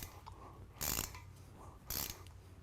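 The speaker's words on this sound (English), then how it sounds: "now for the mini-me ratchet" Small ratchet tightening bolts while crankshaft and pistons go into an engine short block, with two short bursts of rapid clicking close by over a quiet background.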